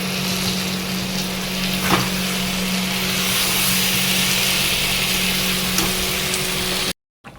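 Onion, garlic, chili and cumin fry in a pan, a steady close sizzle that holds at an even level with a few faint stirring scrapes before it cuts off.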